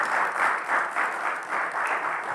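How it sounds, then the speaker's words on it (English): An audience at a Scout troop Eagle Court of Honor gives a short round of applause, steady mid-level clapping that rises and falls in a gentle pulsing rhythm for a couple of seconds. "Can we all have a round of applause for Charlie?"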